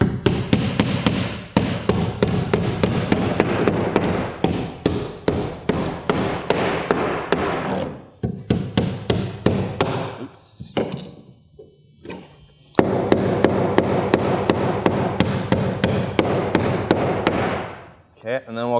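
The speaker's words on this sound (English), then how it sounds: "So we'll get a couple nails in here just to tack." Rapid hammer blows drive nails through wall sheathing into a wooden stud while a framed wall is tacked, loud sharp strikes in fast bursts with a brief pause midway before the pounding resumes.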